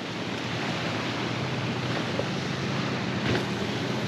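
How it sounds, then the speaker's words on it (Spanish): Motorboats near a beach fishing pier, heard as a steady, distant engine drone buried in constant wind and surf noise, with no voices. "Miren por ahí las lanchas."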